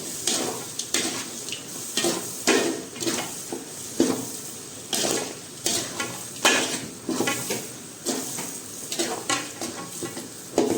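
Guar and potato with chavanu and peanut bhajiya being stirred in a hot pan, a steady run of rhythmic spoon scrapes and clinks against metal over a soft, constant sizzle, close and alone.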